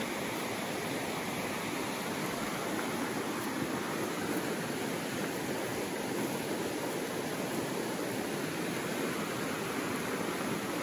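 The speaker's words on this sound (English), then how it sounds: "You can hear the creek rapidly flowing" A creek rushes rapidly through Mungamuka Gorge, a steady, dense roar of flowing water that stays even and loud throughout with no voices.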